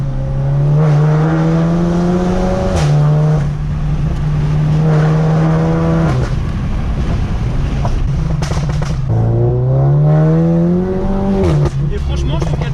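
Golf 7 GTI Clubsport with APR Stage 2 tune and rear silencer, its engine and exhaust droning loudly and steadily with several rising revs and gear changes, wind buffeting the microphone throughout.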